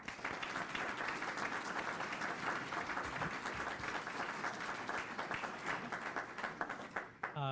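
A room of attendees at a school board of education meeting gives a sustained round of applause, even and moderately loud, fading slightly at the end.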